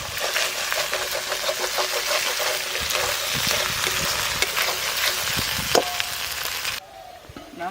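Ginger-garlic paste frying and being stirred for a fish curry, a steady loud sizzle with scraping strokes that drops away abruptly near the end.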